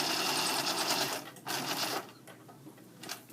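A sewing machine runs a straight stitch with a long stitch length and no zigzag, giving a loud, close, steady buzzing whir. It pauses briefly, then starts again and tapers off into softer mechanical clatter.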